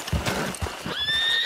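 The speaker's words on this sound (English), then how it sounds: "this Del Lobo horse, who has glitched out" A horse in Red Dead Redemption neighs with a rising, whinnying cry, preceded by a few soft hoof clops, close and fairly loud.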